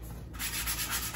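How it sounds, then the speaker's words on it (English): Quick, close scratchy strokes of fine-grit sandpaper rasp across wood in a short burst, rhythmic and fairly soft. "So I'm using a fine grit sandpaper."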